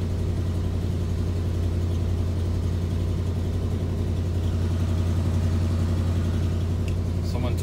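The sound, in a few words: 1988 Chevy R30 truck engine idling after cold start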